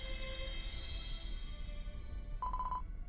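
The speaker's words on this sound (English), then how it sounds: "A bell's ring?" A bell rings in the video game Dragon Quest X, sustained tones over a soft game soundscape, ending with a brighter, clear ringing chime near the end.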